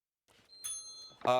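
A quiz bowl buzzer sounds at a college quiz competition: a short, bright electronic tone rings out, and a brief louder burst follows at the end.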